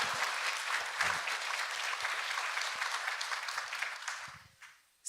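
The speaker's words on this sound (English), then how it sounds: "you should clap for that." An audience at a Republican leadership conference panel bursts into dense, steady applause that holds for several seconds before tapering off at the end.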